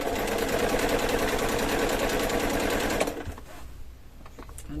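A sewing machine fitted with a denim needle stitches heavy-duty upholstery fabric for retro chairs, giving a loud, rapid, steady mechanical whirr for about three seconds. It then stops abruptly, leaving faint room noise.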